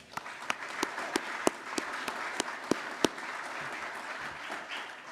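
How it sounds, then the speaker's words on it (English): Audience applause at the LSI USA '23 conference opening remarks, a room full of clapping with several loud, distinct claps punctuating the wash in the first few seconds before it settles and thins. "let's give Paula a round of applause"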